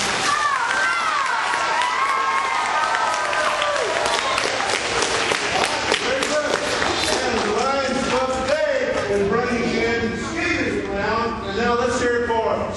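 A large crowd of children cheers, shouts and applauds for the Lions Club at a circus-themed school event, loud and sustained, with overlapping excited voices throughout.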